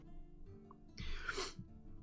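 A single sharp sneeze bursts out, fairly faint and a little distant, over quiet background hum.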